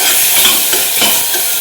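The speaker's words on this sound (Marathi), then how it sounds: "तर याला तेल सुटेपर्यंत भाजून घ्यायचं आहे" Goda masala and spices roast in hot oil in a pan for a spicy matki rassa, producing a loud, close sizzle with scraping stirring strokes in a continuous hiss.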